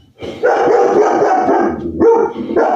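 A German Shepherd barks loudly and close at someone at the front door, a dense run of barks with one short pause before more barking.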